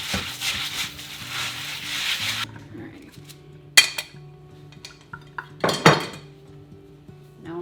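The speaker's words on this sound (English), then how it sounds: "Sift through them, my hands are clean." Pinto beans being sifted and rinsed by hand in a pot: running water at first, then soft rubbing and scattered clinks and rattles of beans against the pot, fairly close and moderately quiet.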